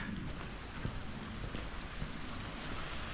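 Heavy rain pours steadily at a suburban tram stop near Leymen, making a dense, even hiss with scattered nearby drips and splashes and no pauses.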